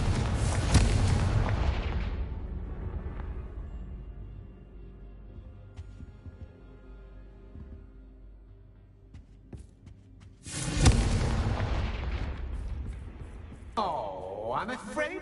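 Blasting-spell explosions from Confringo casts in Hogwarts Legacy burst out loud and deep, one at the start and another later followed by a quick extra pop, with a hushed game ambience and speech between them.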